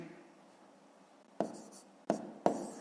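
A pen scratches out numbers on paper during long division, a faint hiss at first, then three short distinct strokes, quiet and close.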